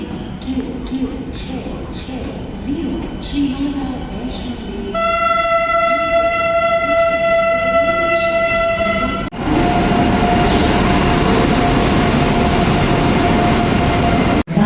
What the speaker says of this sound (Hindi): तो कटरा वंदे भारत आपको मैं दिखाने आ गया। तो उसका अराइवल देखिए